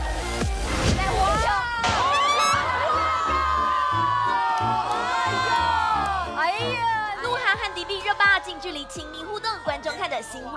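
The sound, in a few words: audience screaming and cheering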